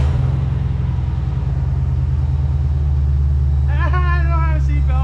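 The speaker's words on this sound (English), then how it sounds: "So the fan's like freaking out right now." The radiator cooling fan of a 2021 Dodge Durango SRT Hellcat under rebuild, low on coolant, roars loud and steady, with a whistling squeal rising near the end.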